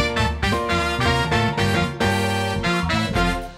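Brass and saxophone play a punchy Mario-style melody in unison over bass, piano and synth, loud and full, with no voices.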